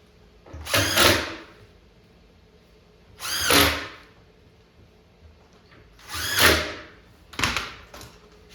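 A power drill drives screws into wooden cleats inside a Pac-Man arcade cabinet: three separate whirring bursts of about a second each, then a quick double burst. All are close, with quiet pauses between them and no talk.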